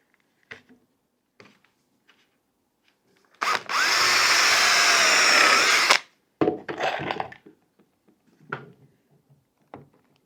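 Power drill driving a deck screw into wood on a bridge build, one loud close burst of whirring lasting a few seconds, surrounded by scattered knocks and handling clatter.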